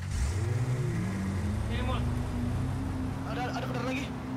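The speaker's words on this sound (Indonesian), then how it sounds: "Ada motor lagi." A motorbike rides past in the online shooter ROS, its engine note rising and sliding in pitch as it nears, with steady game background and occasional talk over it.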